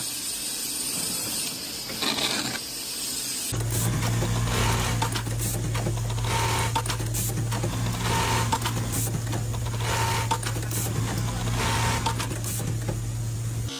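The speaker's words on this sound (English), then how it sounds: "the high-speed sewing machine transforms soft, colorful fabric into delicate, cascading ruffles with extraordinary precision" A high-speed sewing machine gathers soft colorful fabric into ruffles, running in a loud continuous buzzing whir with a steady low hum, rapid needle chatter and brief pauses in speed.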